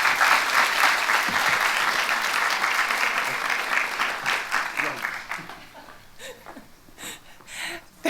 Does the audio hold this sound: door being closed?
no